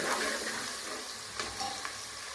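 Onions sizzle steadily in a pan while they turn pink for Kathiyawadi-style Rajasthani dal baati, with a close, continuous crackle and a couple of brief stirring scrapes.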